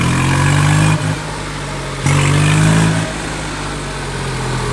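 A tractor engine runs in third gear with noise from the differential housing under the seat, a steady mid-pitched drone that rises and falls in loudness, louder at the start and again around the two-second mark.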